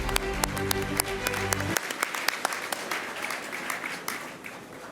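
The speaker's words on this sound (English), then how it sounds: "let's give them a big round of applause." Audience applause at an awards and recognition dinner: steady clapping from a room full of guests, moderately loud and continuous, with a low tone or hum cutting off early.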